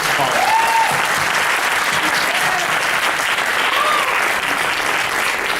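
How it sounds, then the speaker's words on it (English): A lecture audience gives a speaker another round of applause, loud, dense clapping that stays full and sustained throughout with a faint crowd murmur beneath. "Can we please give her another round of applause, please?"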